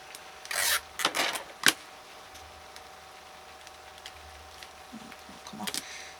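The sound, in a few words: rubbing tape down onto a craft sweets dispenser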